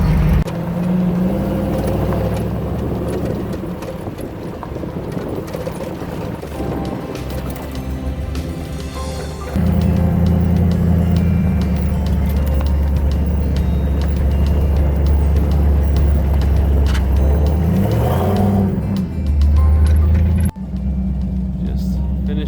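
A truck climbs a steep off-road trail in Sycamore Canyon near Tucson, Arizona, its engine rumbling loud and steady from near, with a surge in revving midway and a brief drop at the end; voices are heard over it.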